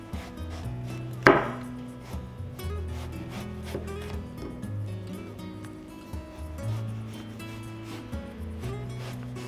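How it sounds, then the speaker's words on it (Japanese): A knife thinly slices eggplant on a board, giving soft, irregular chopping and rubbing cuts through a steady layer of background music, with one sharper knock near the start. "ナスを薄切りにします。"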